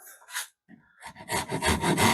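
A hand tool rasps and saws through wood in short, close strokes that quicken into a steady back-and-forth rhythm toward the end, no talking.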